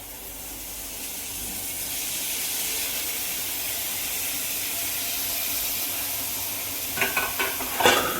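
Drumstick pods frying with peanut powder in a pan give a steady, even hiss of sautéing heard up close, ending in a few sharp scrapes and knocks of a stirring spoon.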